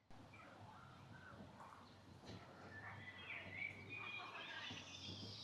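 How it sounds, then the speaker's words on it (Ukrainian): Birds chirp and twitter faintly in an open outdoor space with frogs nearby, scattered calls over a low background hum, growing a little busier toward the end. "Птахи, цвірінькають, джаби, квакають"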